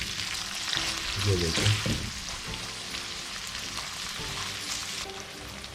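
Onions for khara masala qeema frying in a pan, a steady close sizzle that runs throughout with a few stirring scrapes, and a voice briefly speaks over it.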